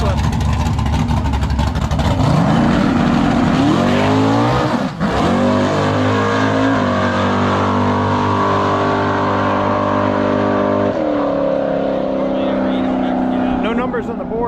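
A Camaro drag car on slicks with a 440ci nitrous engine roars loudly down a quarter-mile strip, the engine rising through gears with sharp shifts, holding a sustained high-revving howl as it pulls away, with voices talking over it.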